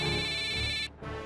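A telephone rings with a steady electronic ringtone while a call is placed, one sustained burst that cuts off briefly and then starts again.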